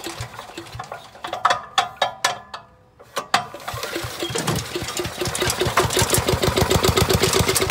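Wood chipper/shredder engine, freshly fueled, starts after a couple of pull-cord tugs: sharp ratcheting pulls and sputters, then settles into a loud, steady, rapidly pulsing idle that keeps rising.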